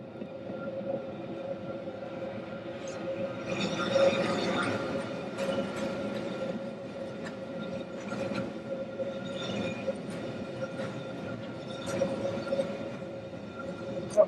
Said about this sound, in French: Un train attend notre passage en gare de Bernina-Suot